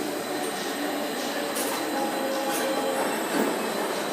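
A Europa Park roller coaster train rolls along its track with a steady, loud rushing rumble and faint squeals, no talking over it.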